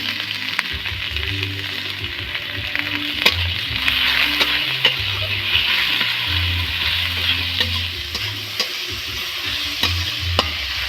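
Chopped tomatoes and salt go into a hot pan with spinach, peas and gram flour, sizzling steadily while a spoon scrapes and stirs in repeated strokes, close and continuous with no talking.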